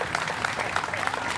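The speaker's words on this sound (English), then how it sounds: "he deserves a standing applause" A crowd at a plaza unveiling and dedication ceremony gives a standing ovation, a brief burst of steady, moderately loud clapping from many people.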